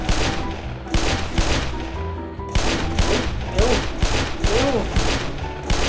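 Gunfire in the Roblox video game, rapid bursts of repeated shots in quick rhythmic volleys, loud and close, with players talking over parts of it.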